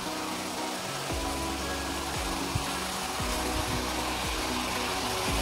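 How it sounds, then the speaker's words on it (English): An EPC Typhoon 18-inch (450mm) industrial fan, freshly serviced and regreased, runs at full speed, giving a steady, even whoosh of airflow over a low motor hum that holds constant throughout. "Let's run the fan in full speed."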